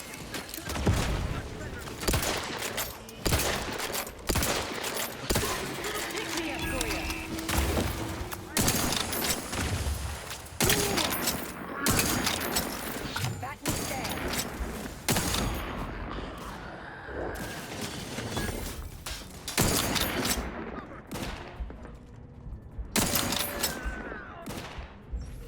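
Repeated bursts of gunfire and explosive booms from a firefight in the video game The Outer Worlds 2, loud and close, with game voices and a player talking throughout.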